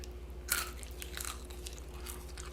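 Close, quiet crunching as crispy air-fried sweet potato fries are bitten and chewed, a sharp first crunch followed by several smaller crackly bites over low background hum.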